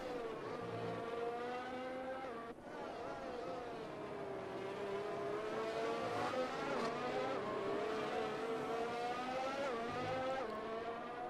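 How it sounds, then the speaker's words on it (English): Formula 1 car engine in the F1 2018 video game at Bahrain, a steady high-pitched whine with gear shifts and rising revs as it rounds the final corner, loud and continuous with a commentator-style voice faintly present. "Around the final corner he goes."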